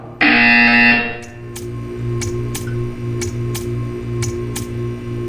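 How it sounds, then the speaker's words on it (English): A loud electronic buzzer blares inside a VR game for about a second, followed by a steady low hum and a series of regular ticking clicks. "You will hear a buzzer"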